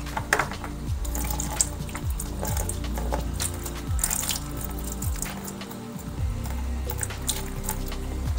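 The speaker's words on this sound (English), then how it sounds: "So now I'm gonna siphon this water out from this box" Water siphoned out of the filter box of a shrimp tank's undergravel filter, a steady close trickle and gurgle with periodic low surging pulses and drips throughout.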